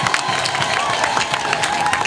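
A church congregation claps and cheers for Jesus at a healing service, dense continuous applause with crowd voices mixed in, steady and loud throughout.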